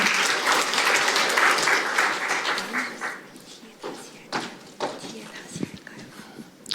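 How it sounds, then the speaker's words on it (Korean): Audience applause fills the room at a National Assembly forum on maritime officer training, a dense, steady clapping that fades after about three seconds into scattered claps and footsteps as a speaker is welcomed to the stage. "큰 박수 부탁드립니다"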